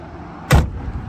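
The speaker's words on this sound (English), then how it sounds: "Shut the door here." The car door of a 1966 Chevrolet Nova SS is shut once, a single loud, close, solid thump with a short low-end boom, and nothing else around it.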